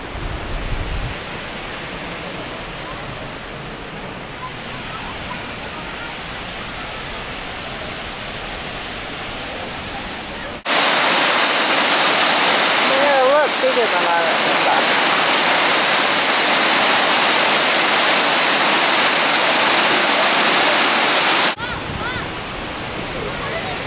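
A roaring waterfall fills the clip with loud, steady broadband rush, louder in the middle stretch as if nearer, over a faint voice.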